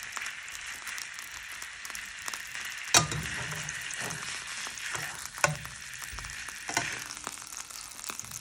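Beef for Beef Wellington searing in a hot pan, a dense, steady frying hiss throughout with a couple of sharp spatula taps and clinks, close and fairly loud.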